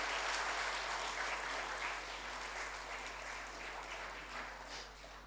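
Audience applause at a Kalinga TV conclave in Odisha, a continuous, fairly distant and soft patter of many hands clapping that fades slightly toward the end.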